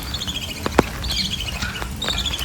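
Bird chirps on a rainy day in a village: a few short, bright tweets scattered across the moment over a steady wash of rain-like background noise, one louder call standing out near the middle.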